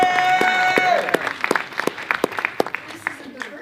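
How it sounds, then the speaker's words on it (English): Theatre audience applause at an awards show, scattered claps starting under a host's voice and thinning into sparse, uneven individual claps near the end. "Let's give yourself a round of applause."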